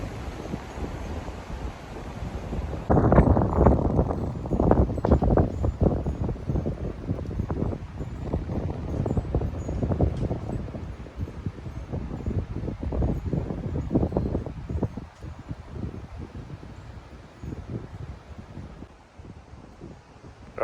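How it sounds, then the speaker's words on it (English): Strong south wind whipping outdoors, a loud, gusty roar buffeting close against the microphone, surging and easing in waves for about twenty seconds, with no voices. "the wind is coming directly out of the south,"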